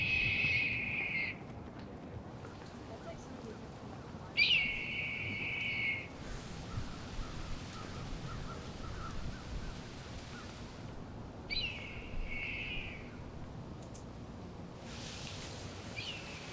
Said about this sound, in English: You've been listening to a hawk over town on a fall day. I think it's a red-tailed